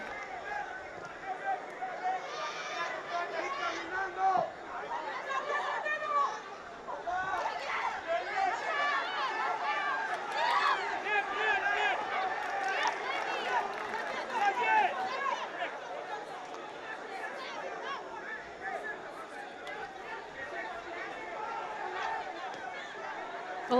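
Stadium crowd at a women's under-17 football match between El Salvador and Haiti, a steady murmur of chatter and scattered shouts that swells slightly and holds at a moderate distance for the whole stretch.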